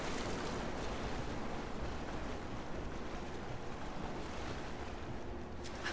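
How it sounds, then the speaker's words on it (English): Open water and rolling waves in Rise of the Tomb Raider just after a jump in, a steady, rushing wash of surf and wind-like noise, moderately quiet and continuous, with no one talking. "Jump in the water."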